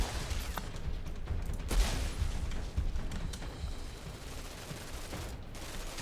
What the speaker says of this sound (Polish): Dlaczego strzelam w typa dwa strzały